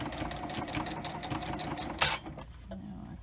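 A sewing machine chain-stitching fabric face masks runs in a fast close mechanical patter for about two seconds, then stops with a sharp click and leaves a quieter hum.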